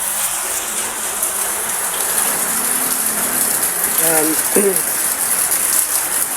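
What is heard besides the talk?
rain falling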